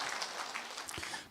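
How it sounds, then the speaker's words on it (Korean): Audience applause at a Korean political rally, a steady broadband wash of clapping that holds at an even level throughout, with no talk over it. "여러분, 박수 한번 쳐주세요."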